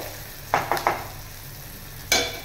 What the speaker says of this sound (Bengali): এই ভাজা মশলাটা দিয়ে দিলাম, কসুরি মেথি আর যেটা ভাজা মশলা ছিল সেটা দিয়ে দিলাম। এটা নাড়াচাড়া করতে করতে